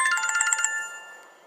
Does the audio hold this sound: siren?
no